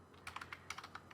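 Quick keystrokes on a computer keyboard while working in a free Windows 10 video editor, a short burst of about a dozen light, close clicks in an uneven rhythm with no talking.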